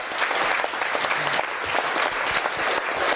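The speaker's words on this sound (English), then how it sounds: "Please give Judy and Bonnie a big hand for organizing this." Audience applauding at a summit panel session, sustained dense clapping from a crowd with no break.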